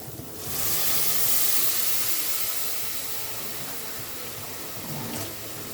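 Water poured into a pot of thin rice vermicelli, a broad steady hissing rush that swells after the first half second and holds close and fairly loud, with no talk.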